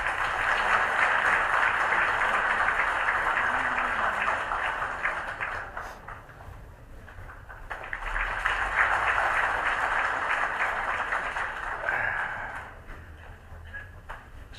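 An audience at a talk concert applauds party leader Hong Joon-pyo with a long, continuous wash of clapping that dips briefly midway, then swells again and tapers off, steady and fairly distant.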